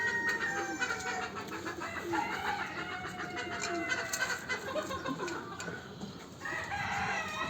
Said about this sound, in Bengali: মুরগিটা কত সুন্দর লাগছে না?